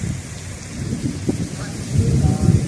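Strong wind and rain sweep across a Kentucky parking lot during a storm with geese caught in it, a steady rushing wash with low gusty rumbles building louder toward the end.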